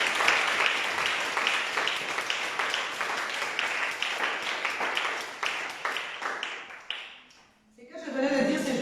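A church congregation claps together in a brisk, even rhythm, loud and close, for about seven seconds before the clapping breaks off and a different sound takes over.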